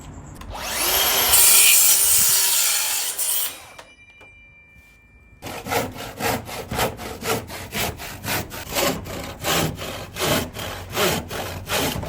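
A hand saw cuts a notch into a wooden roof joist, first with a loud continuous rasping stretch, then after a short pause a steady run of rhythmic back-and-forth strokes, close and without talk.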